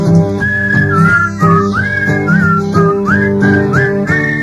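Whistling with a wavering, sliding melody over a steady tonal background, continuous and fairly loud, sounding like more than one person.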